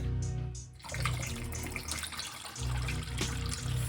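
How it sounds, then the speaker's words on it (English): Tap water runs steadily through a film developing tank to wash black and white film at about 75 degrees, a constant close rushing flow with a low hum beneath. "Just gonna run water continually through it."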